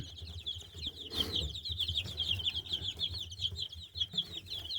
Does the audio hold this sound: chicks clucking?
yes